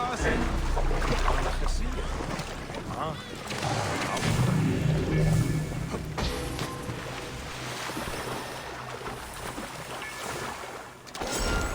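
Water laps and splashes around a small boat in the Assassin's Creed Origins game world, with a broad wash of waves and wind and louder surges midway.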